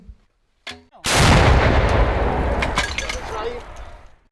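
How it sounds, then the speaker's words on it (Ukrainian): A single powerful artillery gun blast erupts after a brief mechanical clack, booming loudly and then rumbling and decaying over several seconds. "Після цього роблять постріл."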